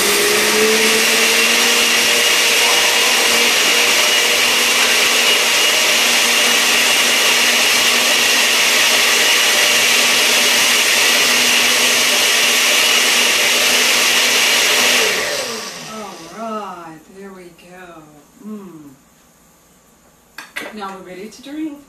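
A blender whirs loudly and steadily for about fifteen seconds, mixing almond milk and blueberries into a smoothie. Its motor then spins down and stops, leaving faint talking and light kitchen clatter.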